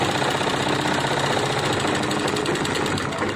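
Sewing machine stitching along the edge to join a zipper onto the bottom hem of jeans, running as a steady, continuous mechanical whir with rapid rhythmic needle chatter, close and loud throughout.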